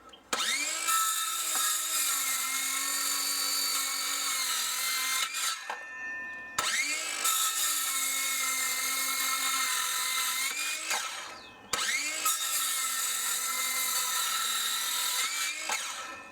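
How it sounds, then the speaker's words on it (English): An old first-generation lithium-ion Hitachi cordless circular saw cuts through wood in three long passes, each a loud, high whining buzz that starts and stops abruptly with short pauses between cuts. "This is the original generation of lithium ion tools from Hitachi, which is a pretty old saw."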